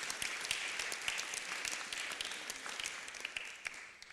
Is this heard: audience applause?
yes